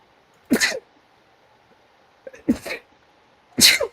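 Three sharp sneezes burst out close by, each a short explosive blast, spaced about a second or more apart in an otherwise quiet room.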